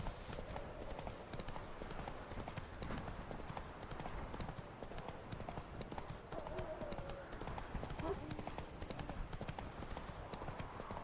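Roach, the horse in The Witcher 3: Wild Hunt, trotting with a steady run of clip-clopping hooves over a continuous game backdrop, fairly loud and even throughout.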